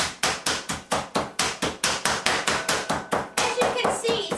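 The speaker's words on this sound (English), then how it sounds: "And now it's time to bash the meat." A meat basher pounds a pork cutlet inside a plastic supermarket bag, giving a rapid, even series of loud, sharp thuds about four per second, close by, with a faint voice near the end.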